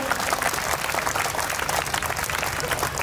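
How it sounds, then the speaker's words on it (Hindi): Enthusiastic audience applause at the opening of a Hindi cultural festival, dense continuous clapping filling the hall at an even, fairly loud level throughout. "मैं चाहती हूँ जोरदार तालियों के साथ उनका भी अभिनंदन हो।"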